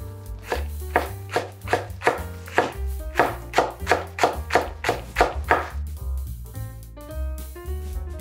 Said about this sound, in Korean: 쫑쫑 썰어 주세요.